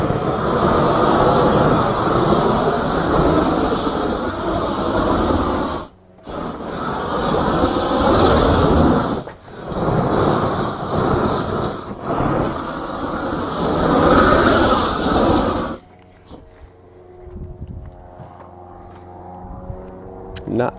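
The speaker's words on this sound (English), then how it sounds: "We're gonna have to wait for another fucking plane to go past." An airplane passing overhead makes a loud, broad roar that lasts for about sixteen seconds, then gives way to a much quieter background.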